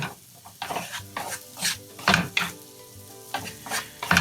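Butter and potatoes sizzle and fry in a pan, with irregular scraping and stirring strokes cutting through the steady crackle at close range, no voices.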